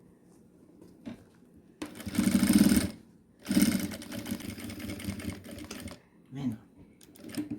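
Sewing machine stitching fabric in two loud whirring bursts separated by a short pause, with someone speaking softly around them.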